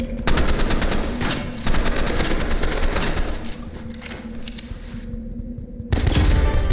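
Gunfire in the Roblox game Rivals comes as loud, rapid automatic bursts in several rattling volleys, with a short pause before the firing resumes.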